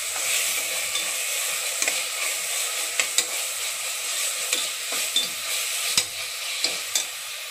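Ingredients for a meal maker biryani sauté in a pan with a bright, steady sizzle throughout, broken by regular clicks and scrapes of a spatula stirring against the pan, close and alone.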